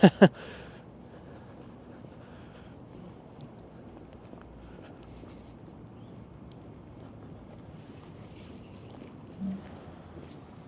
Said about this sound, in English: And as I said that, the wind just kicked it up a notch.